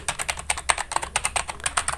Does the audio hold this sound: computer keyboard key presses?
yes